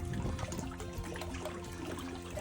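Water dripping and trickling down inside a small moss-lined cave, a steady close patter of drops and splashes with no talking.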